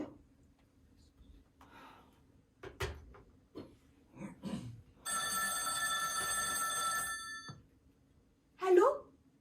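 A telephone bell rings in a long, steady harmonic burst lasting a few seconds, preceded by scattered knocks and handling noises and followed by a brief voice.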